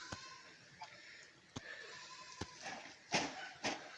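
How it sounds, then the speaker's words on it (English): Goats on a small farm bleat in a few short, separate calls, with two louder cries near the end and a couple of fainter ones earlier, moderately close, with no talking. "And up there's some more goats."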